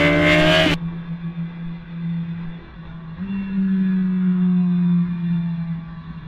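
A 2010 BMW S1000RR sport bike engine holds a steady, off-throttle idle-like drone around 5,000 RPM on a racetrack, smooth and moderately loud, with a brief louder burst at the start and a slight pitch rise midway.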